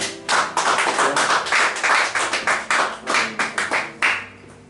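A church congregation at a Sunday service claps for the pastor, a close, lively burst of hand claps in uneven bursts that taper off near the end, with no talking over it.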